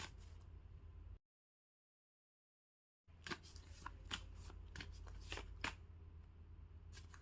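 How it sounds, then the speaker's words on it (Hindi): Tarot cards are shuffled close up, giving a quick run of crisp riffling snaps and soft card slides after a short silent gap, with no talking. "फिर से शफल करेंगे।"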